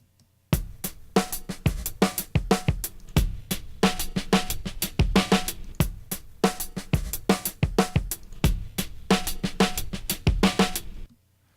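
A punchy drum loop with heavy kick and snare hits plays in a steady rhythm through a Warm Audio EQP-WA Pultec-style equalizer, loud and clear, with no talking over it.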